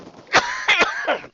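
A sick man's coughs, a few harsh close-up bursts with a throaty, rasping edge, spaced unevenly over a second or so and then trailing off.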